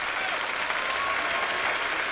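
A large audience applauds steadily at an awards ceremony for the 2024 Jules Bianchi marathon, a dense, even wash of clapping throughout with a faint voice barely showing beneath it.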